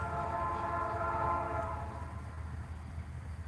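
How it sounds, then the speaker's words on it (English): Far off in the evening in Alaska, a train sounds a sustained horn that fades away, leaving a low, steady rumble of the passing train behind it. "I think that's a train in the background."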